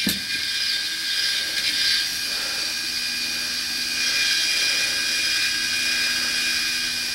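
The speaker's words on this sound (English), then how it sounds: "This little power deburring tool." A small handheld power deburring tool works the necks and primer pockets of 5.56 military brass cases, a steady high-pitched whirring whine running continuously close up with no talk.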